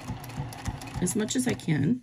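A sewing machine stitches slippery vinyl along a quarter-inch seam line for a pencil pouch, its motor buzzing in short bursts under a person's close talking.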